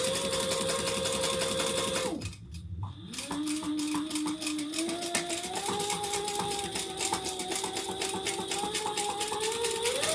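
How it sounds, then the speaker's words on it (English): A sewing machine stitches leather for a modified piece, running steadily and loudly with rapid rhythmic needle clatter, pausing briefly before resuming at a steady pace. "I'm just sewing on the inside of my line where I'm going to cut this piece"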